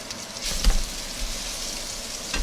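A seasoned steak sizzles in a hot pan just after being flipped, a steady close hiss of frying with a brief louder spurt early on and no voices.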